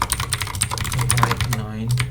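Rapid clicking keystrokes on a computer keyboard while writing .NET code, close and fairly quiet, in an irregular rhythm for about two seconds, with faint talk in the background.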